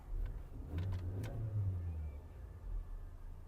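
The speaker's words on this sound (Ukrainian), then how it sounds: "Двигун запускається чудово." A Skoda Octavia A5 with a 1.6 MPI petrol engine and 197,000 km runs at a steady low idle after starting, a close, continuous rumble with a few light clicks early on and no voices.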